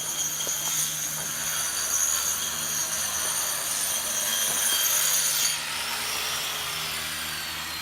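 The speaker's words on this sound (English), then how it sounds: "She's grinding away." Grinder smoothing a pool surface outdoors, a steady abrasive whine and rasp running continuously, fairly loud and close, shifting slightly in tone near the end.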